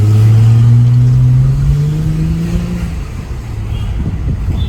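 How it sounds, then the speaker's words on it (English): Mercedes W211 sedan exhaust under acceleration, a loud, deep drone that rises in pitch and then fades into a rougher, lower rumble as the car pulls away. "Let's hear this exhaust."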